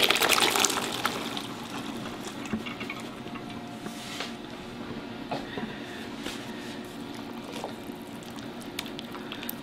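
Water, together with half-cooked beans and barley, being added to a cholent pot, a gushing, bubbling pour that is strongest at first and then settles into a quieter trickle.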